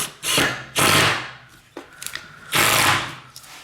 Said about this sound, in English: We're gonna go straight through the nylon, straight through the felt, right into the plywood.